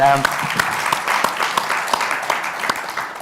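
An audience at a discussion with Eva Schloss and Davina Pardo breaks into applause, scattered sharp claps spread across the moment, fairly close and moderately loud.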